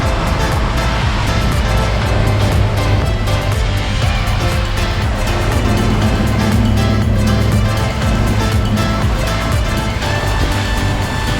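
Water washes and sloshes around a boat in the Blue Lagoon, Malta, a steady close rushing swash with a low engine-like rumble beneath it, continuous throughout.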